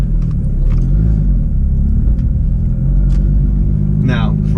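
A 2018 Porsche 911 GT3 with a manual gearbox rolls away from a driveway, its engine a steady low rumble close by with a brief higher chirp near the end.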